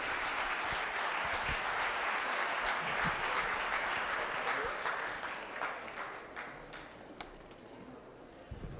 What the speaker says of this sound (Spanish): Un aplauso por favor a nuestro ponente.